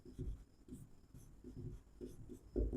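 A pen writes out a maths solution on paper, making soft, close scratching strokes in short bursts with brief pauses between, quiet and alone.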